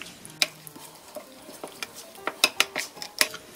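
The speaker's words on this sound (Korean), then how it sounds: "양념을 풀어줍니다" Chili flakes, gochujang, syrup and ginger wine mixed into a seasoning sauce for braised gwamegi, a spoon clinking and scraping against a bowl in quick irregular taps, close and fairly quiet.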